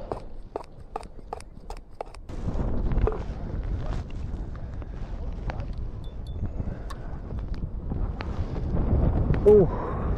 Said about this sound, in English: the blooming wind gets up